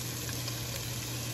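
Peppers, onions, scallions and other vegetables fry in melted butter in a pan for paella, giving a steady, close sizzle that runs through the whole moment with no talking.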